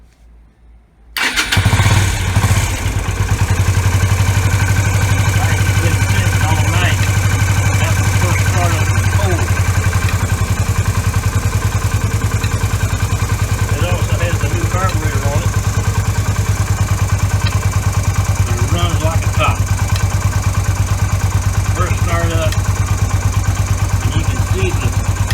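A Yamaha V Star 250 motorcycle fitted with an electric fuel pump cranks and catches after a brief silence, then settles into a loud, steady, close idle with a constant low rumble, while someone talks faintly over it.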